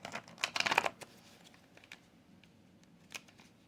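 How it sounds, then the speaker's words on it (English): A quick flurry of riffling card sounds near the start, then scattered light taps and flicks, fairly quiet and close. "I can't really shuffle these all that well."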